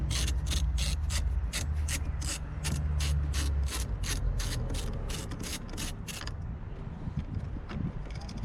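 Ratchet wrench loosening a nut on a Jeep Cherokee battery, 2014 or newer, a close run of rapid regular clicks for about six seconds, then quieter handling noise.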